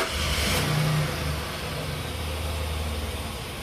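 A 2006 Jeep Commander's engine fires up after fresh oil fills the sump, a brief rising rev followed by a steady low idle drone, heard close with faint background hiss and no speech.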